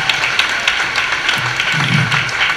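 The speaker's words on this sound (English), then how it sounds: "you can applaud for that" Audience at a 2014 talent show applauds steadily, a dense wash of clapping filling the room at close range with no talk over it.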